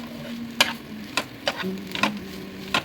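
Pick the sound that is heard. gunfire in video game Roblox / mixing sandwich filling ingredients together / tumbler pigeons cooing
mixing sandwich filling ingredients together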